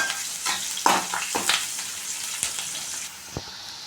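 Curry leaves and spices frying in hot oil for a sambar tempering, crackling and spitting in quick irregular pops over a steady sizzle, close and fairly loud, fading to a quieter hiss near the end.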